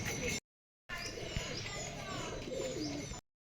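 Home pigeons, let out in the morning, coo softly and repeatedly close by, with a voice faintly present and brief breaks of silence.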